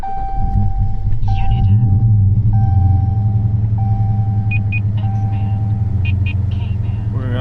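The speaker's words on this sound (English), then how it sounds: "We're gonna start the car." Dodge Challenger fitted with a Whipple-supercharged 426 engine idling with a loud, deep, steady rumble, accompanied by repeated electronic chimes and beeps from inside the car.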